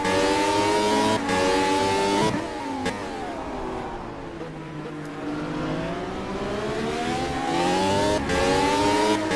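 Race cars lap Donington Park during a sim racing championship race, engines droning loud and steady with rising and falling revs as they pass, plus brief gear-change dips, with no voices.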